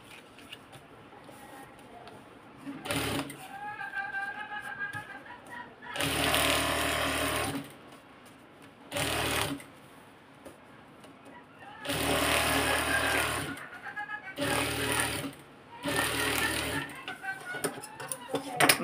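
A sewing machine stitches fabric in several loud, close bursts of rapid mechanical whirring, separated by quieter stretches where a person speaks.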